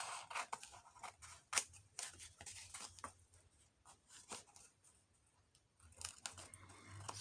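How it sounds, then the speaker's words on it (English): Scissors snip through glued old book pages in a string of sharp, close, quiet cuts with paper rustling between them, no voices. "I'm just going to trim this off a little bit."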